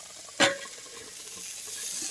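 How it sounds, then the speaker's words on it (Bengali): Boiled vegetables fry in a pan, with one sharp clatter of a utensil near the start followed by a low, steady sizzle, close and with no speech. "সেদ্ধ করে নিয়েছি, আর এটাকে এখন ভাজছি"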